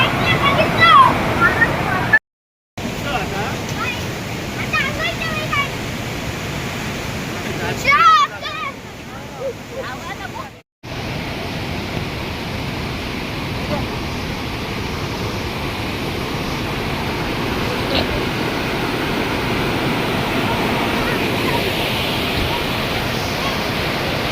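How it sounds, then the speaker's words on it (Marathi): A waterfall at Radhanagari, swollen by heavy monsoon rain, roars as a steady, dense rush of water close by, interrupted by two brief dropouts, with faint indistinct voices now and then. "इकडे पाऊस खूप असल्यामुळे धबधब्यावरचं पाणी खूप वाढत होतं"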